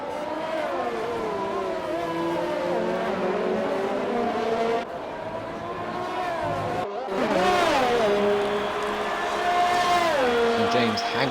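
McLaren and Ferrari racing cars roar through a sim racing game, engine notes rising and falling with shifts and passes, while a commentator talks continuously over the whine.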